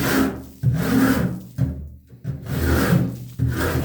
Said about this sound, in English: file side of this rasp gently, and it takes it from being wow that's sharp to no problem at all